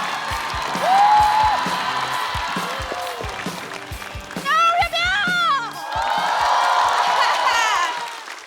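Studio audience at a stand-up comedy show cheering, whooping and applauding to welcome a comedian onstage, with a lively crowd roar and shouts rising over background music.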